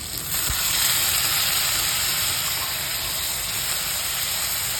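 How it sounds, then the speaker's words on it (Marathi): Crushed garlic and green chilli sauté in hot oil with cumin for a fenugreek (methi) bhaji, giving a loud, steady close-up sizzle that hisses evenly throughout with no voices. "हे ठेचलेलं आपण लसूण आणि मिरची आहे ना ते टाकून घेतो परतून घ्यायचं"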